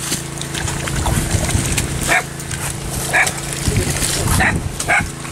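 A dog barks a few times at intervals, sharp yips over a steady background hum, with some low murmuring nearby.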